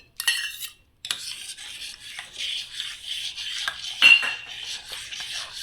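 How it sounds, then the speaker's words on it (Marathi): A spoon scrapes and stirs fruit custard in a metal pan, repeated close scraping strokes after a brief pause, with one sharper clink of utensil on pan. "आपल्याला कंटिन्यू हलवायचं आहे नसेल तर हे कस्टर्ड आहे ना खाली चिपकेल"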